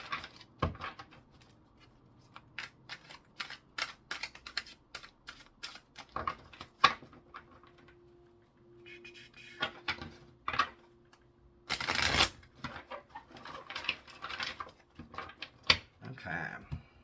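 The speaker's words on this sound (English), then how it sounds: "So I'm going to pull those 4 cards here real quick." Tarot cards being shuffled and laid down: a run of soft, irregular clicks and flicks, with a few sharper slaps and brief rustles, close by and moderately quiet, with a voice talking at times.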